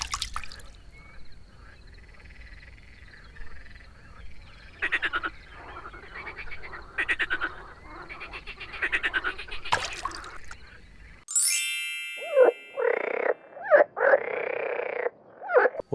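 Frogs croaking in bursts, a few scattered calls at first and then louder, closer croaks in quick succession near the end.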